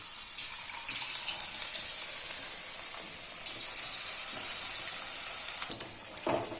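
Batter-coated cauliflower pieces fry in hot oil with a soft, steady sizzle and bubbling hiss, swelling slightly as pieces are added, with occasional light clinks.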